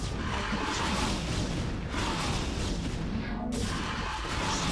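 Missile turrets in StarCraft firing on Mutalisks, a dense, continuous roar of launches and explosions with overlapping whooshes and booms, loud and sustained throughout.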